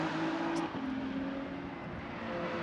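GT3 race cars work through the tight Malco hairpin at the Macau street circuit, engines droning loudly and steadily with shifting pitch as they brake and pull away, no voices heard.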